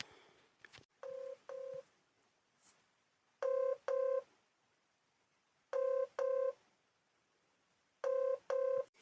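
A telephone being dialed, with paired keypad tones heard in four separate bursts about two seconds apart, loud and clear against a quiet background with no talking.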